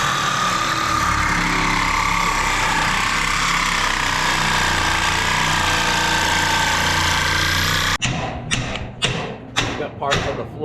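Hammer striking suspension parts on an S10 pickup during a lowering-kit install in a shop: after a steady loud mechanical roar, five or six sharp metallic blows ring out in an uneven rhythm, close and loud.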